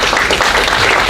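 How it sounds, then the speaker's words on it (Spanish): A conference audience breaks into loud, dense applause to welcome a speaker, steady clapping throughout the brief span. "Yo le pido que lo recibamos con un fuerte aplauso"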